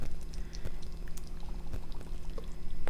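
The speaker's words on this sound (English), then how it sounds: "And now let's water." Water is poured onto potting soil around an amaryllis bulb in a pot, a close, continuous splashing trickle that keeps going to the end.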